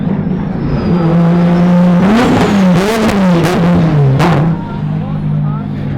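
A 4-litre car races past at an Australian motorsport competition, its engine note rising then swooping down as it passes close and loud, with people talking over it.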